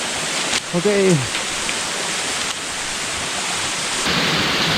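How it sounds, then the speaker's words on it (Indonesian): A natural waterfall near Makassar rushes with a constant, hissing wash of water, close and loud, while a voice briefly speaks over it near the start. "Ini air terjun, masih dalam air terjun yang sama ya."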